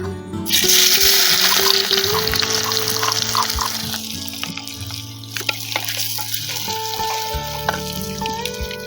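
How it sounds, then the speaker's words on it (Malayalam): Crushed garlic and shallots go into hot oil for a Kerala-style mushroom roast, setting off a sudden, loud, sustained sizzle that hisses steadily close by with scattered pops and clinks over a faint background hum. "ചൂടായ എണ്ണയിൽ നമുക്ക് വെളുത്തുള്ളിയും ചുവന്നുള്ളിയും ഇട്ട് കൊടുക്കാം."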